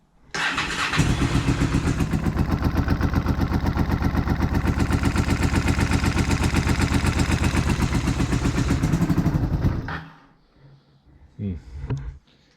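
A motorcycle engine with a possible exhaust obstruction and poor breathing runs loudly with a rapid, throaty exhaust pulse for about ten seconds, then cuts off, followed by a brief revving burst.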